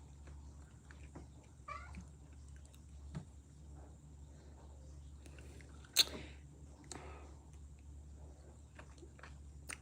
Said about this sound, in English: Damn cats are annoying.